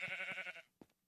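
Minecraft sheep bleats in a long wavering harmonic cry, followed by a short thump and a brief second sound, close and clear with no talking.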